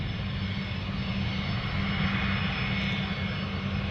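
A Boeing 777 jet takes off from runway 15 at Anchorage airport, its engines a steady, loud, broadband roar that holds at full power throughout with no voices over it.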